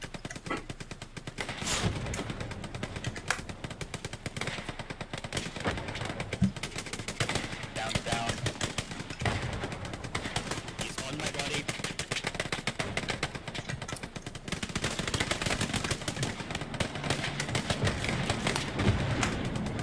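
Gunfire in the WWII shooter Hell Let Loose: dense, continuous rattling bursts of machine-gun and rifle fire, some close and some distant, keep going for twenty seconds and grow slightly heavier near the end.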